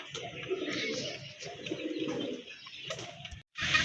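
A pair of large breeding pigeons kept for sale coo in repeated low, throaty phrases close by, with faint chirps and a brief flutter near the end and no speech over them.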